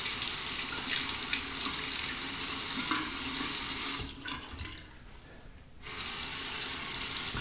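A Merkur 34 stainless steel safety razor rinsed under a running bathroom tap, steady close splashing water that briefly softens as the razor blocks the stream, then returns to full flow.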